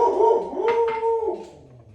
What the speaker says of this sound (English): You guys are all gonna get to know my dog's barks really well if you follow my page.